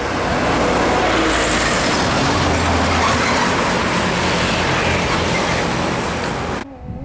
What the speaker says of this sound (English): Konvoy trailer